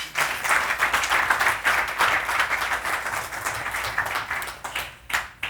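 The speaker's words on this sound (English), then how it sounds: "If y'all would give him a round of applause." A room of attendees at an investor event at the Buckhead Club in Atlanta gives a round of applause, distinct individual claps forming a lively, moderately loud patter that thins out near the end.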